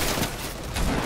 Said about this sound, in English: They're trying to shoot out the pad